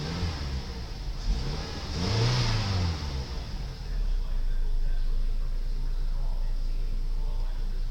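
A 2006 Mazda 6 with 133,622 miles runs its engine at a steady mid-pitched idle, then revs up and back down once. The car is heard close by and the idle continues afterward.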